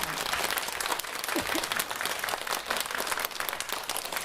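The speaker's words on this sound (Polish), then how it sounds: "Wielkie, wielkie, wielkie brawa." Audience applause at the opening of a preschool children's song contest, steady dense clapping throughout at moderate level, with no voices over it.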